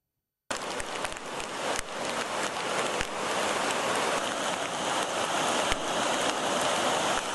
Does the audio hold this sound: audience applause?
no